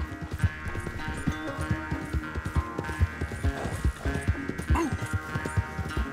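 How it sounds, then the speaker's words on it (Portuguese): A horse gallops in Red Dead Redemption 2, its hooves making a steady, rapid clip-clop rhythm that is close and prominent throughout, with no talking. "meu cavalo tá muito bem treinado, Dutch."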